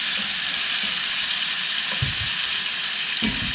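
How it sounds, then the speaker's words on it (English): Stuffed mushroom Swiss cheeseburgers sizzle on a grill with a steady, greasy hiss, loud and close, with a couple of soft low thumps as they shift. "Just observe, see that buttery, delicious, greasy sizzle."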